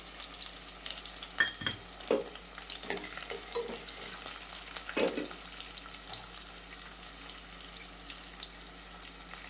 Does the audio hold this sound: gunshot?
no